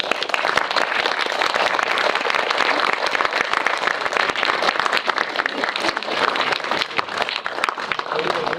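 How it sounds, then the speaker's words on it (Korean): An audience at a special film screening and director's talk event applauds, a dense, sustained burst of clapping heard close and loud throughout, with a voice mixed in. "박수 부탁드립니다."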